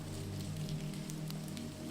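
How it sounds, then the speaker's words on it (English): Heavy rain pours in torrents onto the ground and a thatched roof, a dense steady hiss with scattered pattering drops, fairly soft and continuous with no voices. "The rain falls in torrents,"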